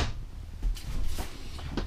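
Kitchen cupboard doors in an RV travel trailer's rear kitchen are pushed shut, producing a few soft, close knocks and clacks in a quiet interior.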